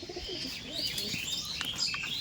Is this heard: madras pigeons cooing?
yes